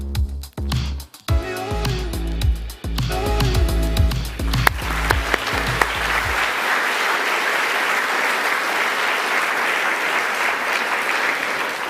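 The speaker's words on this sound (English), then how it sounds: "we can all give you a big round of applause" Applause for award nominees at the Northern Territory Australian of the Year Awards swells in after a musical passage fades, then holds as broad, even clapping from a large audience to the end.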